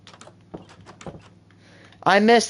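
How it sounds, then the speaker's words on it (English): Wooden doors in Minecraft open and close in a quick run of soft clicks and thunks, heard under a speaking voice that grows louder toward the end. "the old door sounds. Now that they're fixed, it makes the game so much better."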